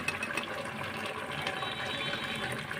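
Liquid pours steadily into a cooking pot of potatoes, a continuous close gushing splash that holds an even level throughout with no talking.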